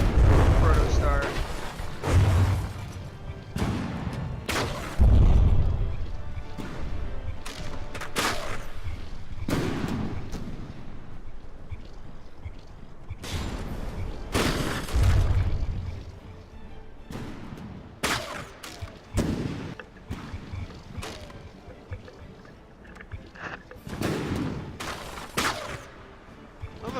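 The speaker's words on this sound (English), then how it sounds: "The only thing that's firing is this little bitty secondary guy here." Naval guns fire from warships in a From The Depths battle between a frigate and a small ship: heavy booming shots, some spaced and some clustered, with deep rumbling blasts and mechanical noise, and someone talking between them.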